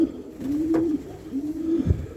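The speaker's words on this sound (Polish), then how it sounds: "O, wrócił jeden gołąb." A pigeon coos close by, two soft rolling calls in a row against quiet background.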